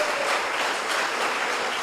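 Steady, dense clapping from a church congregation during an evangelical sermon fills the clip at an even level, ending with a sudden louder burst at the very end.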